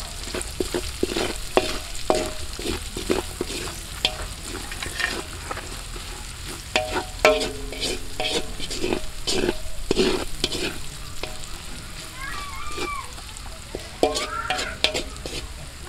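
Garlic and onion sautéing in oil outdoors, a steady sizzle with frequent stirring and scraping clatter from a utensil, close and fairly loud.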